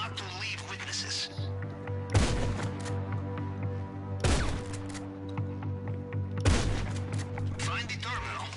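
Gunfire in GTA Online during the Cayo Perico heist: three sharp loud shots spaced about two seconds apart over a steady droning game soundtrack, with no voices.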